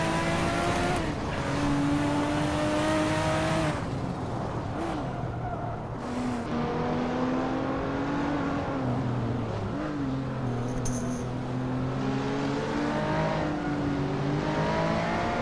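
Race cars in a Hot Wheels video game race, engines droning and shifting pitch continuously with overlapping revs and passes, loud and busy throughout with no talk.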